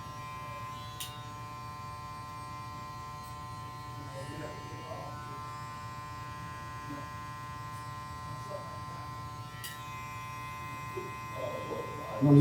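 A small, lightweight cordless hair clipper cutting hair, giving a steady, even electric buzz that runs unbroken through the whole stretch, close by and moderately loud.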